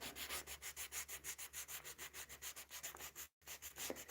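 Hand sanding of a surface in a paint room, steady rhythmic back-and-forth rasping strokes, about four per second, close and loud, with one brief break near the end.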